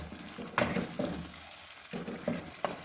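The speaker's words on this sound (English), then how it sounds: "I use just 1 tablespoon of black pepper and I will mix it well." Black pepper stirred into chicken karahi frying in a pan, with a low steady sizzle under a few soft spoon scrapes and knocks, close and fairly quiet, with no one speaking.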